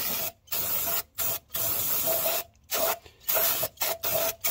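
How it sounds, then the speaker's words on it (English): Short bursts of aerosol brake cleaner hissing from a can during an oil cooler replacement on a 2013 Ram V6, repeated pauses between sprays, close and steady, with no talking. "So you spray your brake clean, whatever the heck you want"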